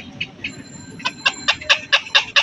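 A black-crowned night heron gives a run of short, harsh calls, close by, starting sparse and then repeating in a quick regular rhythm over faint background noise.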